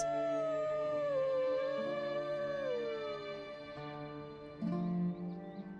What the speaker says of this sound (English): Wolves mourn their fallen companions.